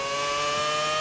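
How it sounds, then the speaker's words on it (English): Mazda 787B four-rotor rotary engine Group C race car, a steady loud high-pitched engine whine held at constant pitch for about a second, with no voices. "that noise is a very familiar noise. The four-rotor Mazda 787B"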